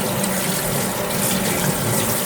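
Water pours steadily from a sink faucet, a close, continuous rushing splash with no pauses and no voices.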